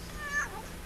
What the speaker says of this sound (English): Get that cat out.